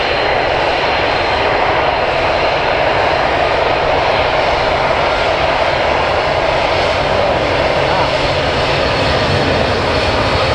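Airplane taxiing at Manchester Airport, a loud, steady, continuous engine roar with no break, heard from close by.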